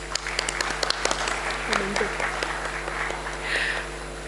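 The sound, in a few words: audience applause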